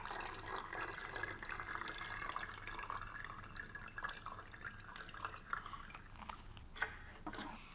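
Water running steadily into a bucket, a continuous splashing trickle with scattered drips and small plinks, close by and alone.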